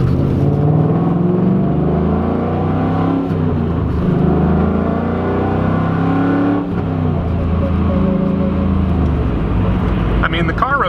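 A Chevrolet Camaro with a stock LS1 V8, long-tube headers and an aftermarket air lid accelerating, a loud rising engine drone heard from inside the car, with someone talking over it.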